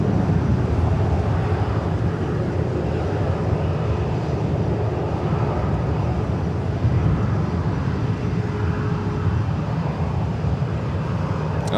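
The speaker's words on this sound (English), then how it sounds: "Allegiant flight heading to Sioux Falls, A320." An Allegiant Airbus A320 departs LAX bound for Sioux Falls, giving a steady rumbling jet roar that stays even and fairly loud from start to finish, alone without voices.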